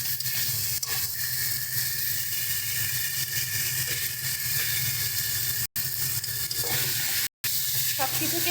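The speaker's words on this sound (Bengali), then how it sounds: "সব কিছুকে ভালোভাবে মিশিয়ে নিচ্ছি।" Fried bori and cauliflower stirred into a simmering fish curry in a pan, a steady sizzle and hiss with soft scraping of the spoon, continuous and close.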